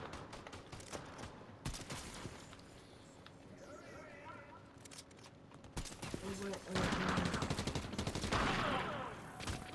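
Fortnite gunfire against bots, rapid automatic bursts and scattered shots crackling through the clip and intensifying near the end, with in-game footsteps and noise underneath.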